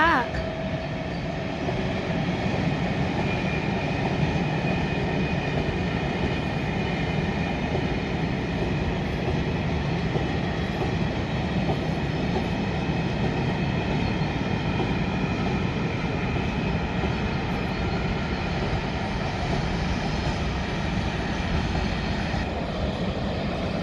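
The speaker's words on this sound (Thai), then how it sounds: "รถไฟกำลังมาจ้ะ" A long freight train rumbles steadily past at close range in rural Finland, a continuous heavy roar and rattle of wagons lasting the whole time, with no pauses.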